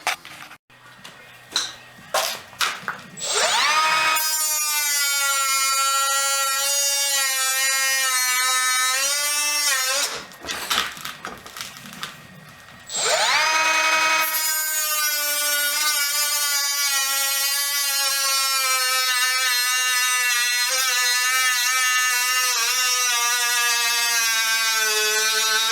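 A battery-powered power tool notches a floor liner around chicken coop posts, whining loudly with a strong tonal pitch in two long runs that rise and settle, split by a brief pause and scattered handling knocks at the start.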